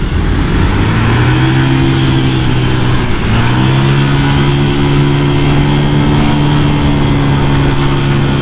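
A Honda Vario 180cc scooter engine with a stock exhaust drones steadily, briefly dips around the middle, then revs back up and holds a loud, constant hum.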